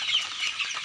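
Chickens at a poultry coop clucking in a soft, continuous chatter, a flock heard fairly close with no voices over it.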